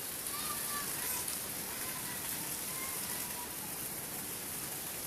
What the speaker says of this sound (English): I'm just going to enjoy it. Because we actually needed a little bit of rain.